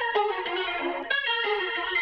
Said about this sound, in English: it's a reverse effect on the guitar, but it has this gritty sound that I like